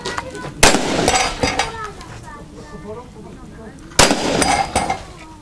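Rifle shots crack out at a shooting competition stage, two sharp loud reports about three seconds apart, each followed by a few echoing shots, with people talking between them.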